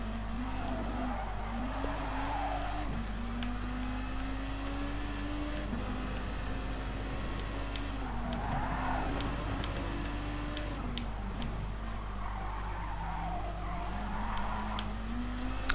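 GT race cars in Gran Turismo Sport's All Japan GT Car Championship, engines droning steadily and rising and falling through gear changes, with tyre squeal and skidding over a constant, moderately loud hum as the pack runs the laps.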